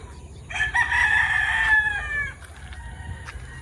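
A rooster on a chicken farm gives one loud, close cock-a-doodle-doo that lasts about two seconds and is followed by faint clucking and quiet farmyard ambience, with no talking.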